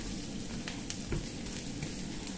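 Onion, garlic and ginger sautéing in a pan for squid adobo, a steady close sizzle with faint stirring scrapes and no voices.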